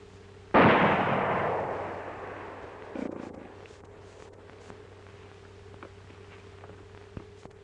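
A single sharp gunshot cracks out in a 1942 western movie, echoing and decaying over a couple of seconds, followed by a second, softer report and faint ambient hiss.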